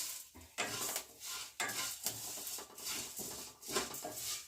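A spoon scrapes and stirs a fried evening snack mixture seasoned with chili powder in a metal pan, giving a continuous rough clattering with a few louder scrapes, close up and without speech.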